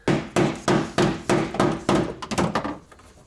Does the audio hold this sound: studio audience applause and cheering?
no